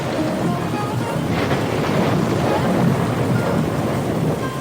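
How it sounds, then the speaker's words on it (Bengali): Heavy cartoon rain pours down in a dense, unbroken roar, with deep thunder rumbling beneath it the whole time; no one speaks. "সারা রাত ধরে মুষলধারায় বৃষ্টি হয়েছে।"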